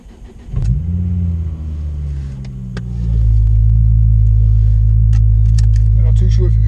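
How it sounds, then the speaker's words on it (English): A Ford Focus ST225 engine cranks and catches on a cold start, then settles into a deep, loud, droning rumbling idle that grows heavier and steadier after a few seconds. "Let's hear a little bit of a cold start grumble"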